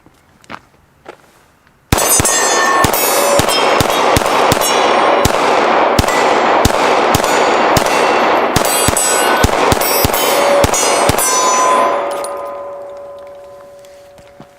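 Rapid close-range shots from a full-size Glock pistol, a loud steady string of sharp cracks fired in quick succession over about ten seconds, ringing off into a fading tail after the last round.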